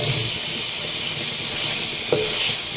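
Gram flour dumplings (gatte) dropped into hot, well-fried yogurt masala, a loud steady close sizzle with a brief clink of a utensil near the end.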